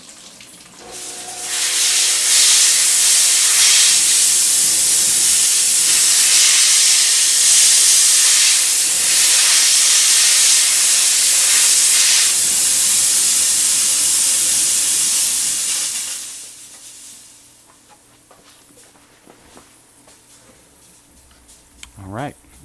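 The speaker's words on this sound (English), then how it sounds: "we're going to go into the steamer from that" A jewelry steam cleaner blasts a loud, continuous hiss for about fifteen seconds during a large yellow sapphire setting job, then cuts off abruptly, leaving a quiet workshop with faint clicks.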